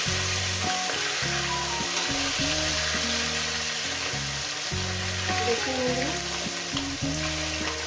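Katla fish fries in a pan with a constant, even sizzle and crackle, close by, while a low droning tone repeatedly swells and drops beneath it.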